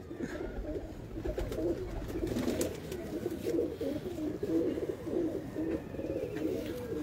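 A continuous chorus of low, rolling coos from many breeder and high-flyer pigeons, close and overlapping throughout, with light background rustling.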